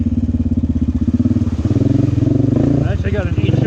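A Suzuki Rincon ATV fitted with an HMF Performance Series aftermarket exhaust and a programmer runs steadily with a loud, throaty low rumble throughout, its pitch shifting slightly near the end.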